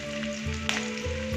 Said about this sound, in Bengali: এবার একটু তেলের উপর একটু রসুন আর কাঁচা লঙ্কা দিলাম। এটা একটু ভাজা ভাজা হবে।